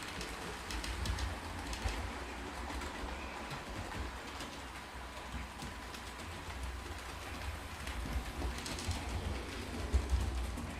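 Model railway locomotives run along a layout track, a steady low rumble with faint clicking and rail noise throughout, fairly quiet and continuous with no talking.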